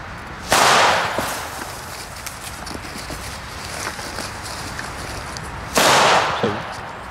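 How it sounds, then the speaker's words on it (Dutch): Dutch vlinder firecrackers explode outdoors in two sharp loud bursts several seconds apart, each a crackling blast with a brief tail, with quieter background noise between. "die Nederlandse knalletjes... Ja, die gaan nog best hard"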